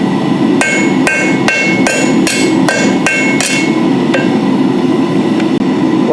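Hammer blows forging a small piece of hot steel stock for a slag hammer, about eight sharp ringing strikes in a steady rhythm, loud and close, then tapering off into the hum of the shop.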